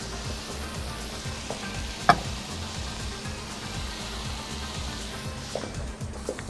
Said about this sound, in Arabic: هحط نقطه زيت زيتون عشان اسخن فيها بس المكرونه